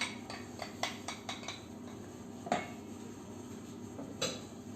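Brookie ingredients go into a mixing bowl with a series of light clinks and taps of utensil against bowl, a quick run of knocks early and then a few isolated ones, close and clear, with no voices.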